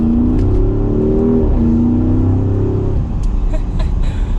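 A 2020 Porsche Cayenne Turbo Coupe revs hard accelerating from second gear with a deep, rising exhaust growl and a small exhaust crack, then drops off sharply as the revs fall; no talking.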